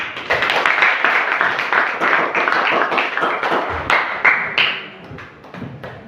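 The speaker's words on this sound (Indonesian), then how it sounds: "Tepuk tangan." A class of students claps their hands together in a dense burst of close applause that thins and tapers off toward the end.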